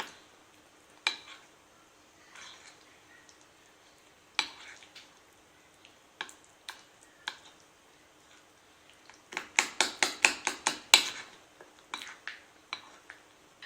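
Homemade peanut butter being mixed with honey in a bowl, with spoon clatter and scraping that turn into a quick run of sharp taps near the end. The sounds are close and irregular, with no voices.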